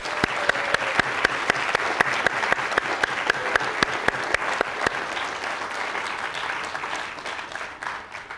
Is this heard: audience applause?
yes